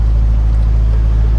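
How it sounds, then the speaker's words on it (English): A steady, loud low engine drone from an off-road vehicle, likely an 8x8 Argo amphibious ATV or a 6x6 Perentie ambulance, idling and running out in the bush, continuous and unbroken with no voices. "We've got the engine running."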